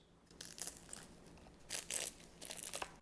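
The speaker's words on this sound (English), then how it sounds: "Oh, hear that crunch?" A knife cutting through a baked cranberry orange crinkle pie in a pan, crisp crinkled layers crunching and crackling in several close, quiet bursts.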